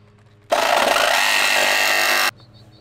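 A power saw cuts a wider notch for a 12V Fresair air conditioner install in a camper van, a loud, close, steady rasping burst lasting nearly two seconds that starts and stops abruptly.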